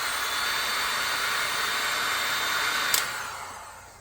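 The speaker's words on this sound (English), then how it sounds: "then we use a heat gun to melt that, or to shrink that" A heat gun blows a steady, broadband hiss while shrinking heat shrink tubing over a push button switch terminal. It runs near and constant, then tapers off after a brief click.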